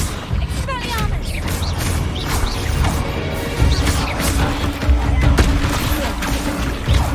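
Spell effects crack and burst in the Hogwarts Legacy video game, a busy run of sharp impacts, whooshes and magical crackles layered over a dense rumbling battle din, with chirping tones at the start.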